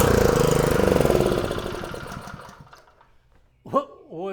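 A gas-powered MITM air compressor engine, locked up and primed with extra fuel, runs with a rapid chugging beat that winds down and dies out, followed by someone speaking.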